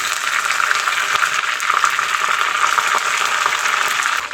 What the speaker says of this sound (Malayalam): ലാസ്റ്റ് നമുക്ക് കറിവേപ്പില ഇട്ട് കൊടുക്കാം.